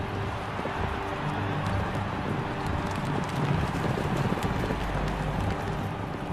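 Racing chariot horses galloping, a dense continuous rumble of hoofbeats and rolling noise, loud and steady throughout with no voices.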